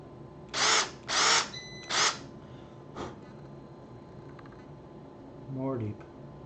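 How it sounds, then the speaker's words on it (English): A power drill bores into a guitar fretboard to make holes for pearl inlay side markers: three short, loud whining bursts close by, then a brief fourth blip, with a voice speaking near the end. "Let me take my safety glasses off while I run power tools."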